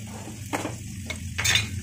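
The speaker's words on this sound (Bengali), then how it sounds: "পেঁয়াজটা একটু লাল হতে দিই।" Onion fries in a pan, a steady low sizzle broken by a few short scraping stirs of a spoon against the pan.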